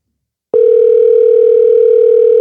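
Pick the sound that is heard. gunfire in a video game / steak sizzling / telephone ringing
telephone ringing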